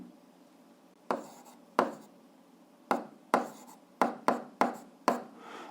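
Chalk or marker writing on a board during an eighth-grade algebra lesson: about nine sharp, separate strokes and taps in an irregular rhythm, close and moderately loud over a quiet room.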